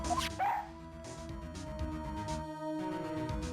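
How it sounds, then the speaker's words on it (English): A police dog in the Phoenix Wright: Ace Attorney video game gives a few short barks and yips over steady game music. "He's a canine police dog, still in training."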